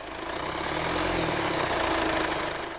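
A Mercedes M-Class 2.5-liter four-cylinder diesel engine runs steadily up close, a loud, even low drone that swells slightly in the middle, with no voices.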